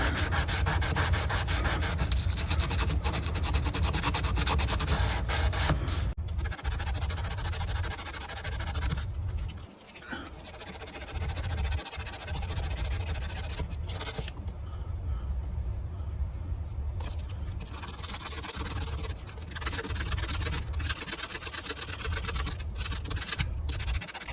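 Steady hand sanding: a continuous rough, raspy rubbing that runs throughout, with brief pauses and a voice speaking now and then.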